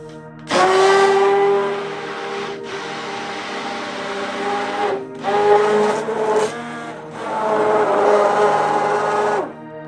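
Electric blender whirring through an organic skincare base cream, a steady motor hum that runs in bursts with brief pauses and pitch shifts as it blends.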